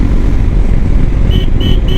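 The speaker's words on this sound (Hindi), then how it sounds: "यहाँ पे बाइक का जो साउंड आ रहा है ना, मतलब जैसे डर्ट बाइक रहती है ना" A Hero Xpulse 210 motorcycle engine drones loud and close with a rough, dirt-bike-like note, steady under wind rush, with a few short high beeps near the end.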